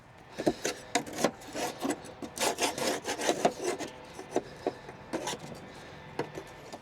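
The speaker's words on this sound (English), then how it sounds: "I might scrape some of this off just to kind of maintain the deck" A scraper drags across the deck of a Toro TimeCutter 42 riding mower to knock off caked debris, making close, loud rasping strokes in irregular bursts, with no talk.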